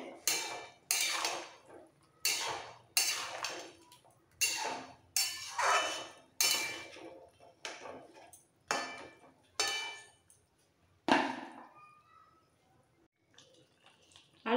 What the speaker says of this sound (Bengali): সব কটা ভাজা বড়া দিয়ে দিলাম, দিয়ে একটু মিক্সড করে দিতে হবে।